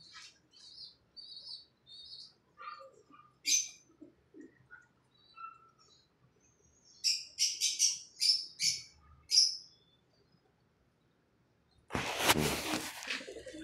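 Saji breed pigeons give soft, sparse calls and chirping notes that come in small clusters, followed near the end by a loud, close burst of rustling or flapping.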